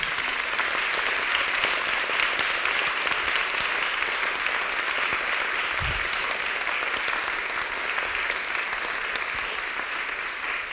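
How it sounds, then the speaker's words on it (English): A large audience gives a long, warm round of applause at a Voices of Faith event, the clapping sustained and even throughout with a single low thump partway through and no talk over it. "And again, I ask you for a warm round of applause."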